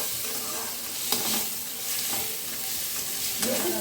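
Turmeric, salt and four or five green chillies frying with spices in a pan, a steady close sizzle running throughout with occasional scraping stirs of a utensil, no voices.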